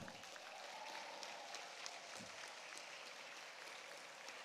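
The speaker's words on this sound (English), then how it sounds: "give them a huge round of applause." A convocation audience claps for the graduates' families and supporters, a steady wash of applause from a large crowd heard at a distance, faint and even, with no one speaking.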